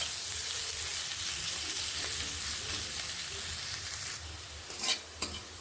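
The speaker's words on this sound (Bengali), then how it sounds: "দিয়ে নেব একটুখানি নুন আর দিয়ে নিচ্ছি একটু হলুদ গুঁড়ো ভালো করে পেঁয়াজগুলোকে ভেজে নিচ্ছি" Onions frying in a pan with salt and turmeric, a steady close sizzle running throughout, with a few brief scraping stirs near the end and no talking.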